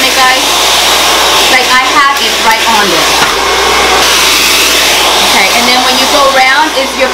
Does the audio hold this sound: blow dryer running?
yes